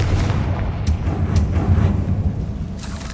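The Confringo fire spell in Hogwarts Legacy goes off as a loud, close, rumbling blast that keeps booming and crackling for a few seconds with no pause.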